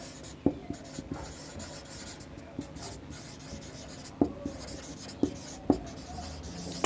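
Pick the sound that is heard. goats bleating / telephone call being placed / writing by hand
writing by hand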